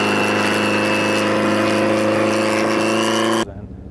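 A modified Mitsubishi Lancer fitted with a Precision 6266 turbo gives a loud, close engine drone with a rising turbo whine layered over it, then cuts off abruptly near the end.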